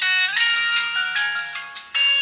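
Phone ringtone on a phone for the blind, a bright electronic melody of short repeated tones that pulses loudly and close for about two seconds, alone without speech.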